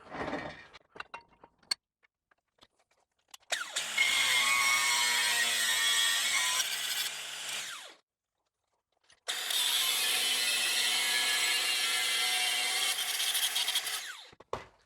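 A power saw cuts the edge off a metal Rev9 coilover part for a Ford Festiva held in a vise, in two long loud sustained bursts separated by a brief pause, with scattered small clanks of handling before and after.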